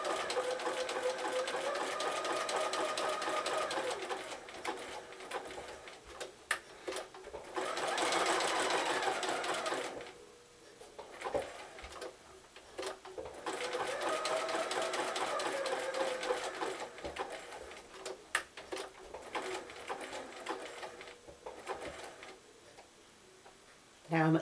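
A sewing machine runs zig-zag appliqué stitching on birthday bunting, its rapid mechanical ticking in long steady runs broken by short pauses to lift and turn the fabric, with quiet talk between bursts.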